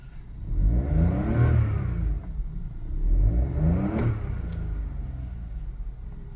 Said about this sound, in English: Why don't we just do a cheeky roll off, so I have a reason to rev it.